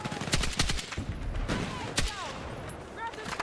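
Rapid bursts of gunfire in a multiplayer video game, with several sharp shot clusters firing close and loud in irregular rhythm, while players talk over the action.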